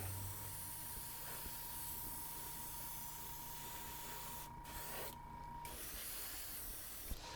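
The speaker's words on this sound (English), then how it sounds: "we'll finish spraying this stabilizer" Steady aerosol spray hissing close by as a scale model plane's stabilizer is painted, a continuous airy rush with a couple of brief pauses and a small tap near the end.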